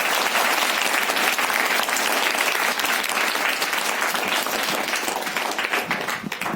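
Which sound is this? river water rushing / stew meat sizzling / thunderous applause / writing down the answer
thunderous applause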